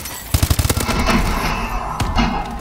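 Rapid automatic gunfire from the Call of Duty: Advanced Warfare online shooter game, a loud, close burst of quick shots followed by another shot and ongoing game noise.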